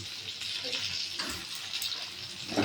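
Rice flour and water paste poured into a simmering vegetable curry of cabbage, carrot, potato and peas, giving a steady watery, hissing bubble at moderate level with soft splashy shifts and no talk.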